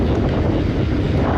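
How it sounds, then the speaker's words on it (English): Strong coastal wind roars and buffets the microphone in a constant low rumble on a mountain bike trail at Nant Yr Arian, Wales, loud and unbroken for the whole moment. "it's a bit bloody windy"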